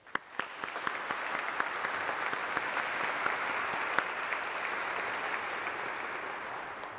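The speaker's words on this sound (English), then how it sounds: "please join me in showing appreciation for the Joint Color Guard and the John Brown Ensemble by giving them a round of applause" An audience at a Veterans Day commemoration ceremony applauds the Joint Color Guard and the John Brown Ensemble, a sustained round of clapping that swells quickly and holds evenly before easing slightly at the end, with no speech.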